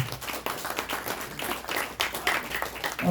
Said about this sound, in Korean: 우리 변호사님에게 다시 한번 큰 박수 부탁드리겠습니다